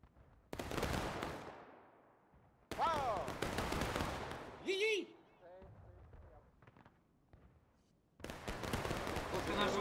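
Musket volley from an infantry line in the War of Rights game, a Civil War reenactment at Saunders Field: sharp broadband blasts with rolling crackle and echo, two dense volleys at the start and end around shouted commands and voices.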